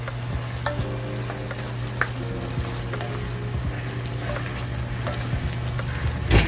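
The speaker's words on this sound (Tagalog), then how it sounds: "Then, imimix lang po natin yung ating inilagay na ingredients." Ingredients for a Filipino coconut milk vegetable dish with shrimp and small crabs being stirred in a sizzling pan, with steady frying hiss and repeated utensil scrapes and clinks against the pan.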